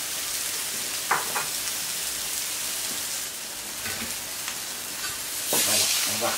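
Jack Daniels barbecue sauce reducing in a pan gives a soft, steady bubbling sizzle with a rain-like hiss and a few faint clicks and scrapes, moderately quiet throughout with no talking.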